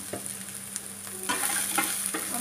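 Onion and garlic paste fries in a pan, a quiet continuous sizzle broken by several soft stirring scrapes and clicks; no one speaks.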